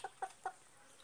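Three short clucks from a Brahma chicken, evenly spaced in the first half second, then quiet background.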